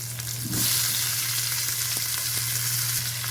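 Mustard seeds, onion and potato frying in hot oil, a steady close sizzle with a louder burst as ingredients go in, plus a low constant hum underneath.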